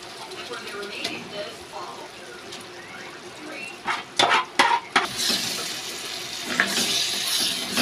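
Pieces of fish are stirred slowly in a pan of curry, giving soft wet scrapes and a gentle simmering hiss, with a few louder clanks of the utensil against the pan midway; a voice talks faintly.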